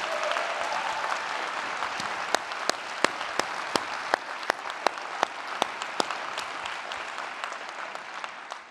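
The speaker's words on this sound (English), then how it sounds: "Please, another round of applause for Wuilly" Conference audience applauding after a music performance at a Venezuela freedom keynote event, a steady wash of clapping with several sharp, loud individual claps standing out near the front before the applause tapers off.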